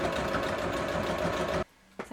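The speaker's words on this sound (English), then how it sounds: "Now we're going to stitch around the waistband" A sewing machine runs steadily while stitching around a waistband on children's pixie pants, a close, loud, even motor whir for about a second and a half before it stops abruptly, followed by a faint clunk.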